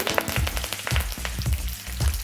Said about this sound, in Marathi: आता ही बघा त्याची अशी फोडणी आपली खमंग झालेली आहे